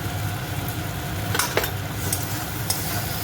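Ground turmeric, cumin and coriander frying in a pan, a continuous close sizzle with scraping stir strokes and a few sharp utensil clicks over about three seconds.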